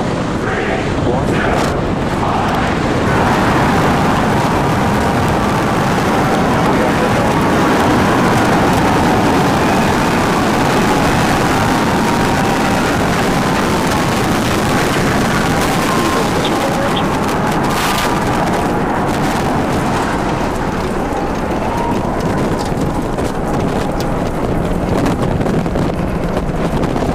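Powerful continuous rumbling roar of a SpaceX Starship rocket launching on a test flight, loud and sustained with broad wind-like noise and crackle throughout, no voices.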